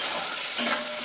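Chicken stirred with ghee in a pan, a short burst of continuous hissy sizzle with faint scraping close by.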